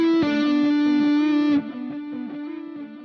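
An electric guitar holds a sustained, distorted note, then plays softer repeated notes that trail off in echoing delay and reverb.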